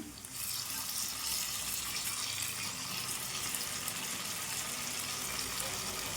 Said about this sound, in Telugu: ఇప్పుడు ఇందులో అయితే ముందుగా మనం రెడీ చేసి పెట్టుకున్న టమాటా ప్యూరీని అయితే వేసుకుందాం అండి